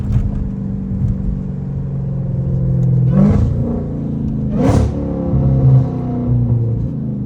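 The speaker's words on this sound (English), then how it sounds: "I think this is the first Catless Redeye I'm hearing, like up close and personal and gassing it" A Dodge Hellcat Redeye with catless mid pipes idles with a deep, loud rumble close by, then rises in two or three short revving bursts before settling back to a throbbing idle.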